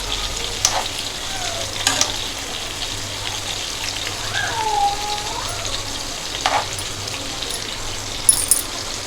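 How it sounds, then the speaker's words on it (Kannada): Stuffed ridge gourd frying in a little oil in a pan, a loud continuous sizzle close by, broken by occasional clicks and scrapes as pieces are turned, with no speech. "ಹೀಗೆ ತಿರುಗಿಸಿ ಸ್ವಲ್ಪ ಎಣ್ಣೆಲೇ ಹುರಿಬೇಕು."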